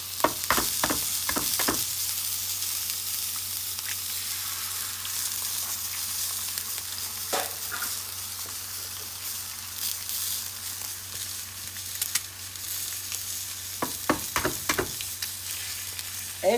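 Small sausages sizzle steadily in a frying pan, a close, continuous crackling hiss broken by a few clattering knocks as they are turned over at the start and end.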